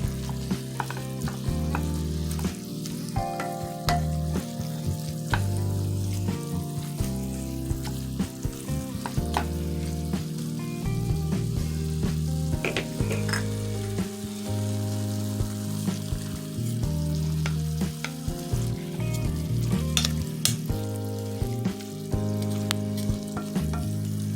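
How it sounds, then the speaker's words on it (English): Ground beef fries and sizzles steadily in a pan for crock pot lasagna, with a spatula scraping and breaking up the meat in irregular strokes over the constant close, loud crackle. "we're just going to continue to break our ground beef up"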